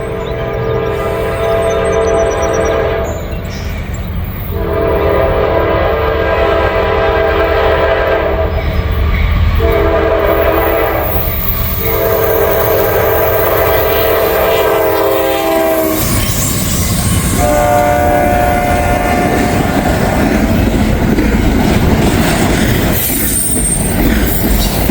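A southbound CSX freight train passes a crossing in Kentucky, its loud horn blaring in long sustained blasts before the roar of wheels and clattering cars takes over, close and heavy.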